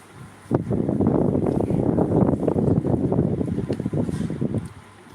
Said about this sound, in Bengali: অসম্ভব বাতাস